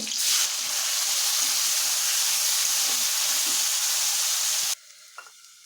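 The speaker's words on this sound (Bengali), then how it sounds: "তেল গরম হয়ে গেছে দেবো চেরা দুটা কাঁচা লঙ্কা রেখে রাখা আলু দিয়ে দিব" Potatoes and slit green chillies hit hot oil with black cumin, setting off a loud, dense, steady sizzle that holds strong for several seconds, then cuts off abruptly, leaving only faint clinks.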